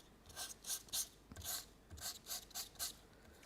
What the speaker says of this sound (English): it's just a little bit of sanding paper